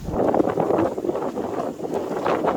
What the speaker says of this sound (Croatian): Strašno puše